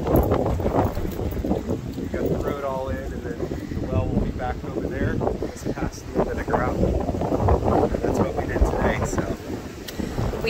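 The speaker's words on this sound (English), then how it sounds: "It's a little windy today, for sure." Wind blowing outdoors at a rural property being prepared for a well, buffeting loudly across the microphone as steady broadband rumble, with a person talking over it and some outdoor movement.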